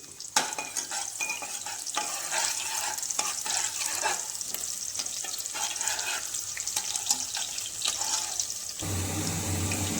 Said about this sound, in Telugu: సన్నగా తరిగి పెట్టుకున్న ఎర్రగడ్డ వేసుకొని బాగా ఎర్రగా వేపుకోవాలి